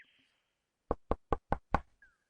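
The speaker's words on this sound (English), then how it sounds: "You rap on the treehouse door and wait a moment" Five evenly spaced, solid knocks on a treehouse door in the video game King's Quest II Redux, loud and close, with a short chime before and after.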